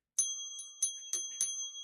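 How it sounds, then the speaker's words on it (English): Bell struck on a sports talk radio show, five bright ringing dings in an uneven rhythm over about two seconds, each with a sustained metallic tone, close and clear with no talking. "Where's the bell?"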